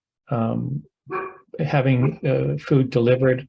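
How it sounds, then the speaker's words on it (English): Dogs bark in the background while a person talks over them in the foreground. "you can hear my dogs in the background"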